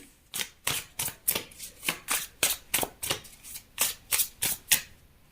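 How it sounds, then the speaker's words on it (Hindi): Tarot cards shuffled by hand in a quick, even rhythm of about a dozen crisp riffling bursts, close and clear with no talking. "तो चलिए कार्ड निकाल लेते हैं"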